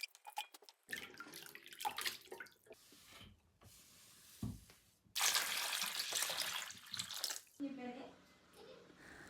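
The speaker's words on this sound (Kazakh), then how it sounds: "Осылайша қиярларды жуып тазалап, екі жағын кесіп суық суға саламыз." Cucumbers washed and placed into cold water for pickling, with splashing and running water in bursts, loudest in the middle stretch, between quieter handling noises.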